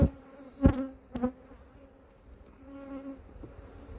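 Honeybees buzz around an open hive during an inspection, some leaving with white sticky matter amid possible robber bees. A soft, steady drone holds throughout, broken by a couple of sharp knocks early on.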